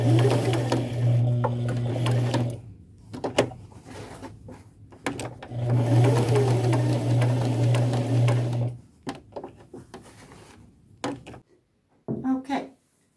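Sewing machine stitching an old coat being upcycled with floral appliques and ruffles, running in two long steady bursts with short pauses and clicks between, fairly close and loud, stopping near the end.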